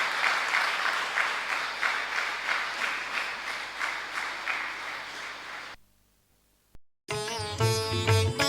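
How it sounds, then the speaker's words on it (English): An indoor audience applauds during a special edition of the Samarpan event, dense sustained clapping for several seconds, then a sudden drop to near silence before music begins. "Let's welcome him with a big round of applause."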